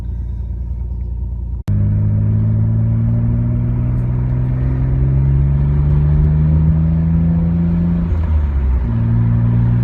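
A Nissan R32 Skyline GTR with a newly fitted boost controller starts after a brief low idle, then a sharp onset into a loud engine pull whose tone climbs steadily, dips at a gear change, and rises again.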